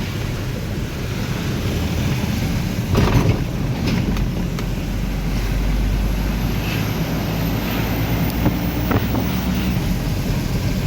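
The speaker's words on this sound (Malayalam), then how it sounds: "വെള്ളം ഇപ്പോഴും കുത്തൊലിച്ച് പോയിക്കൊണ്ടുണ്ട്" Muddy floodwater after heavy monsoon rain rushes strongly past a bridge near Nileshwaram, a loud, steady roar mixed with heavy wind buffeting the microphone, continuous throughout with no speech.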